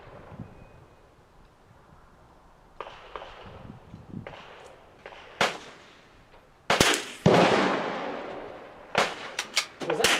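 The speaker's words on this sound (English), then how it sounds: "Was that 4 or 5 shots" Rimfire rifle shots crack out at an outdoor shooting range, several sharp reports spaced irregularly, some close together, over faint background noise.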